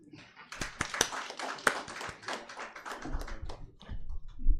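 Audience applause welcoming a guest at a Uganda Law Society food and law training session: dense, crackling clapping for about three seconds, thinning into scattered claps, with some murmured voices underneath.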